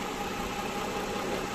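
Toyota Camry 40 with a 3.5-litre V6 engine idling, a steady, even mechanical hum with faint vibration, heard close and alone without talk.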